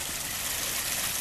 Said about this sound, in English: pondless waterfall